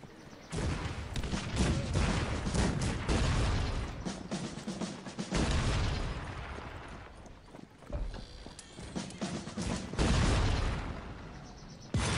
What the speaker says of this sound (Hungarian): egy kaput már szét is lőttek, durrantottak